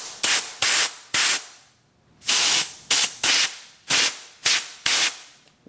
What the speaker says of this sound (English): Go ahead and shoot some air into the hole, and we'll go get the compressor